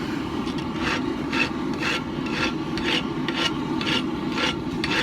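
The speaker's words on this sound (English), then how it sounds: "This hot filing removes material surprisingly fast." Steady rasping strokes of a hand file on a hot forged knife blade, smoothing the cutting edge, repeating in an even rhythm of about two strokes per second, close and loud with no talk.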